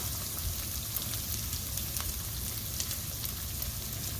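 Beetroot frying in oil in a pan for pickle, a steady dense sizzle and crackle of fine pops running without pause, close and moderately quiet.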